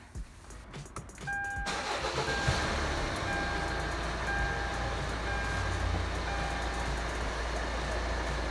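A car engine is started, cranking briefly before it catches, and then idles steadily and close by. A few faint electronic tones come in with the start, and no one talks.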